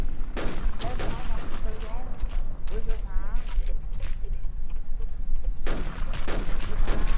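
Gunfire from two guns in a video game, with rapid sharp shots fired in dense bursts at the start and again near the end, loud under someone talking excitedly.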